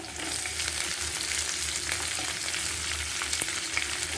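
Onions frying in a pan for rava kichadi, a steady close sizzle with broad hiss and faint crackles running unbroken throughout, with no talk.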